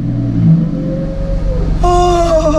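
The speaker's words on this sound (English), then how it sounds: "This is the first actual startup where I'm going to be driving the car." A Lotus Exige Sport 380 engine idles with a low rumble, then catches and revs up sharply near the end, loud and close.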